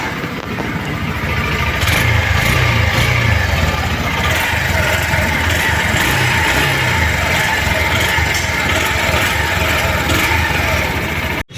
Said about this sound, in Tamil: இந்த Shine 100ஓட இன்ஜின் பீட்டை கேட்டுட்டு வாங்க